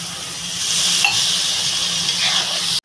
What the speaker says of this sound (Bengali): আমি এটাতে দিয়ে দেবো জল পরিমাণ মতো।